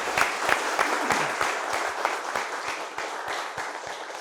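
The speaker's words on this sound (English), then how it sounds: "a round of applause for both" Audience applause for both teams at a televised quiz contest between Presentation College Chaguanas and ASJA Boys' College, San Fernando: dense, steady clapping from a large crowd that stays loud and even for the whole stretch.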